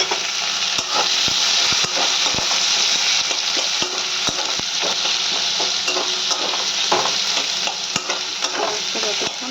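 Onions fry in a pan with spices, giving a constant loud sizzle broken by repeated sharp scrapes and clinks of a spatula stirring against the metal, close up and without speech.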